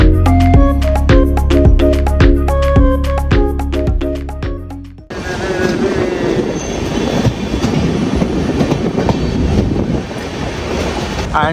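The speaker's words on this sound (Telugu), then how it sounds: "ట్రైన్ వచ్చేసి బెల్లంపల్లి స్టేషన్ కి వచ్చేసింది." Train pulling into Bellampalli station on the Hyderabad to Manali route, a loud rumble of rolling carriages with rattling wheels that follows a melodic horn or chime sequence, continuous and close.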